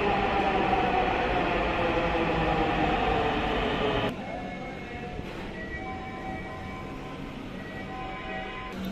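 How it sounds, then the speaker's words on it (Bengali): A metro rail train pulls into the platform at midday, making a loud, steady rumble and rush for about four seconds. It then drops abruptly to a quieter hum with faint tonal squeals, and no one speaks. "আমাদের ট্রেন ইতিমধ্যে চলে এসেছে, প্রায় প্রবেশ করছে প্ল্যাটফর্মে"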